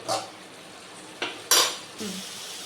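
Masala for quail gravy is stirred in a pan: a few separate scrapes and clinks of a utensil against metal over a faint, quiet sizzle.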